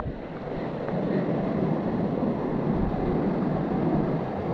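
A waterfall pours over a large rock at Jharuwarashi, Santaneshwor, giving a steady, dense rushing roar close to the microphone with no pauses and no voices.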